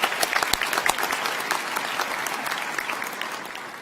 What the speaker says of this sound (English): let's clap for them anyway.